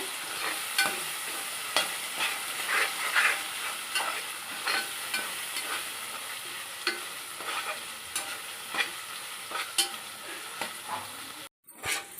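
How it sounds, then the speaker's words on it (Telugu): Spices fry in a pan under brisk, rhythmic stirring: close scraping strokes repeat every second or so over a constant sizzle, broken by a brief cut just before the end. "పచ్చి వాసన పోయే వరకు వేపేసాను"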